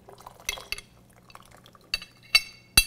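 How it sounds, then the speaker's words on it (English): Hot ginger tea is poured into a cup, giving soft liquid trickles broken by a few bright clinks of the cup, close and fairly quiet. "and you just pour it in."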